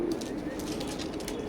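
Teddy golden pigeons coo softly in a low, murmuring stream, close by, with faint bird chirps mixed in and no talking.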